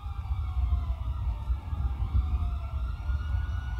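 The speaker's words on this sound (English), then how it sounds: "I hear a lot of sirens." Multiple police sirens wail together in a roleplay video game, sustained and fairly distant, layered over a low rumbling engine drone with no talking.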